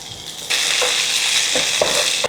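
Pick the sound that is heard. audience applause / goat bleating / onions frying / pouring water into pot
onions frying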